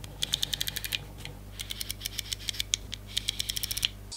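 The aperture ring of a cheap $69 camera lens clicks through its stops. Rapid bursts of small, sharp, close-up clicks come in quick rhythmic runs, separated by brief pauses, with no talking.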